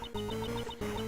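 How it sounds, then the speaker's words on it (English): A cell phone ringtone from the Ace Attorney Investigations video game plays as a repeating electronic melody. Short bright tones pulse in a quick steady pattern over a sustained note, broken by a brief gap, with no talk. "I think that's her ringtone,"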